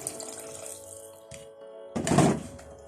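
Water is poured into a pot of lamb and potato curry, a brief splashing gush near the end after quiet kitchen clatter and a soft thunk.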